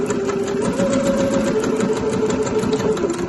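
A sewing machine runs steadily, stitching around the top edge of a kid's tote bag and finishing with a short back stitch, a close, continuous mechanical whir with a fine rapid rattle throughout.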